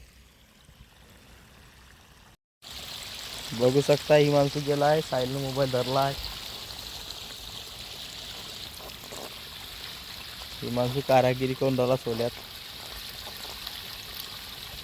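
Irrigation water runs into a farm field in a continuous, steady flowing wash, with people talking over it at intervals.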